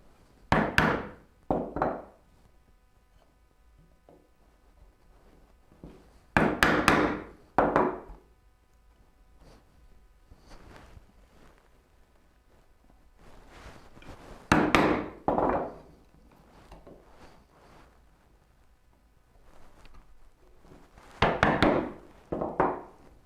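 Mortises are chopped by hand in rectangular wooden stock for a turning bow saw, sounding as sharp mallet-on-chisel thunks in short clusters of two or three, separated by quiet pauses.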